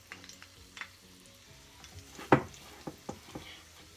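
Jack mackerel fries in a pan with a soft, continuous sizzle, broken by a few sharper crackles and spatters from up close.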